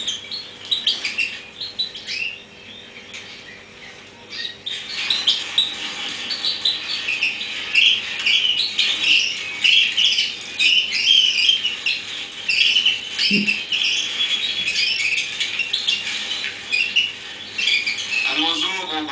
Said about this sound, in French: Un oiseau, bon c'est gai, ça chante.